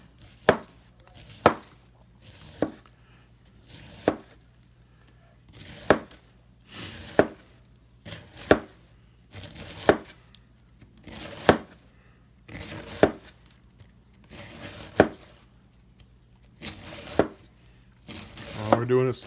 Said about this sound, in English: All we're doing is slicing.